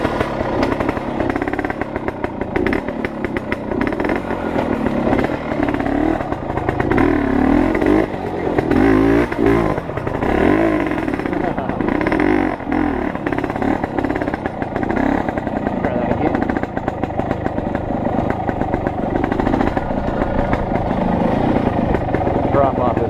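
A 1974 Yamaha TY250 motorcycle engine runs loud and close during riding, buzzing and revving steadily with changing pitch throughout, while a voice talks over it.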